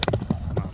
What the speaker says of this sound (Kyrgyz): Чаап көрсөтүп кой, жүгүрүштөр.